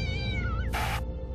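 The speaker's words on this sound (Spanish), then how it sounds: "Gato negro, reencarnación de los muertos malvados." A black cat gives a single drawn-out meow as a Halloween sound effect, close and clear over a low droning rumble, followed by a brief hiss of noise.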